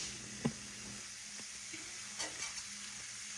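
Food frying in hot grease in a home kitchen, a steady soft sizzle with small pops and crackles throughout, no voices.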